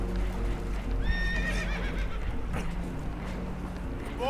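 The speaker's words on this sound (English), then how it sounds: "Horses are spooked" Spooked horses neighing and whinnying in the video game Red Dead Redemption 2, aboard a damaged boat, several rising cries over a steady low rumble with hoof clatter mixed in.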